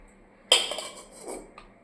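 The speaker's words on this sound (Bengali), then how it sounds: "এই যে দিয়ে দিচ্ছি গরম গরম ভাত" Hot rice is served onto plates in a home kitchen: a sudden bright clink of dishware, then a soft scraping rustle and one last faint tap, close and quiet.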